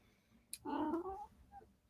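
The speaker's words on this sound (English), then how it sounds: "She just went, meow." A cat gives a single short meow at close range, a rising then falling tonal call lasting about half a second, followed by a faint brief chirp in an otherwise quiet room.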